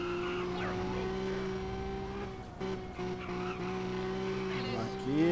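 A Fiat Stilo in GTA San Andreas holds a steady droning engine note while accelerating, with a brief tire skid rising sharply at the very end.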